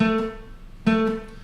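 Two short plucked guitar notes from a song, played staccato, each struck and quickly damped, separated by a brief gap of silence.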